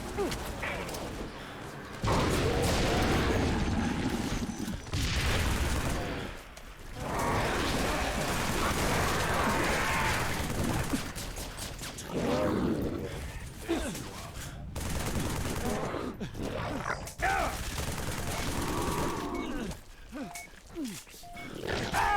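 Assault rifle fire in Halo during a Flood infection match, loud rapid bursts of shots repeating over about twenty seconds, mixed with growls and roars and dense battle noise, with brief quiet gaps between volleys.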